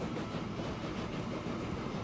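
A locomotive pulls a long string of nine wagons in the Transport Fever 2 railway simulation game, a faint, steady rolling rumble of rail cars with no talking.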